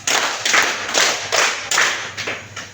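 A group of junior high students clap together in a counted clapping game, five loud broad bursts in a fairly steady rhythm, each slightly smeared by many hands landing at once.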